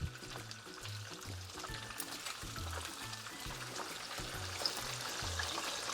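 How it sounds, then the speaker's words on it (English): Snapper fries in a pan with a steady, fairly quiet sizzling hiss that runs throughout, over a soft rhythmic musical beat in the background. "Now we're gonna let this fry for 3 more minutes and then it will be ready."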